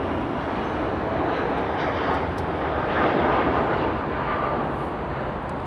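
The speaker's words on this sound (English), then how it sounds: "There's a Dreamliner." Jet airliner, a Boeing 787 Dreamliner at LAX, roaring steadily as a loud, broad rumble that swells slightly midway and holds for several seconds with no talk.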